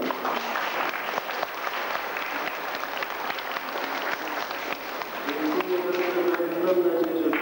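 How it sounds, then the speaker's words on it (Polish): Applause at a chess tournament in Częstochowa fills the room steadily, a dense patter of many hands. A voice comes in faintly near the end. "Proszę o brawa."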